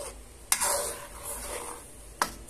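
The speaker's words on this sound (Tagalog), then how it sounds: "Dapat nating haluin para lumapot." Dinuguan stew being stirred in a pot, with a spoon knocking sharply against the pot twice amid soft scraping and a faint sizzle, close by and without talking.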